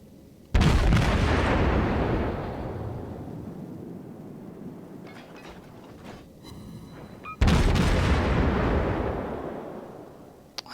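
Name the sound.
HE shells firing from IJN Tenryu in World of Warships video game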